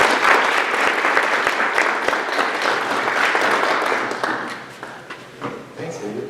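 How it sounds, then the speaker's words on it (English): A lecture audience gives a round of applause for an invited speaker, dense and loud clapping from many hands close by, sustained for several seconds before thinning and fading out toward the end. "Let's give him a round of applause"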